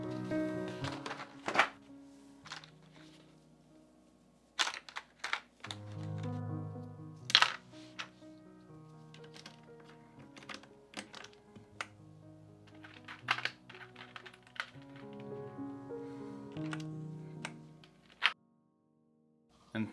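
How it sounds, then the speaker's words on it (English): Keycaps are pushed onto the switches of an RK84 mechanical keyboard, giving a string of sharp plastic clicks and duller thunks in irregular bursts, fairly close and clear, with short quiet gaps between presses. "Let's apply these keycaps to these switches."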